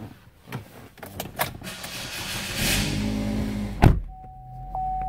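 Power moonroof on a 2015 Buick Verano, a motorized whir sliding open inside the car after a few clicks, ending in a sharp clunk and a faint steady hum.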